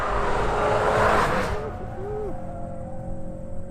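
A Ford Focus RS drifts around a track, the loud engine roar and tire noise fading from a close burst into a lower, steadier hum.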